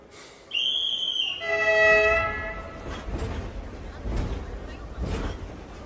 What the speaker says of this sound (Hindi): ओए, ट्रेन जा रही है।